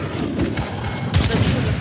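A quick burst of shotgun blasts in the video game Metro Redux, loud booming reports in close succession, the second cluster sharper and louder than the first.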